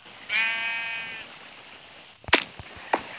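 A sheep bleats once in a Minecraft-style video game, a single wavering bleat near the start, followed by a few sharp thuds and clicks.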